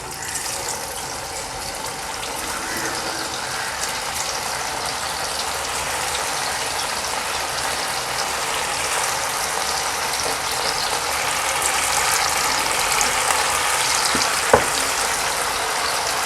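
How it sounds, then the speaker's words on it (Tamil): Boneless chicken pieces for chicken 65 deep fry in hot oil, a loud, dense, continuous bubbling hiss that holds steady throughout, with one small knock near the end. "இப்போ நம்ம வந்து சிக்கனை போட்டுக்குவோம் எண்ணெயில்."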